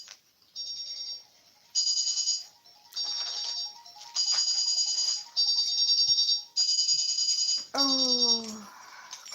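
A phone ringtone plays as a repeating series of bright electronic chime bursts, about seven in a row, fairly loud, ending with a short falling tone; no one talks over it.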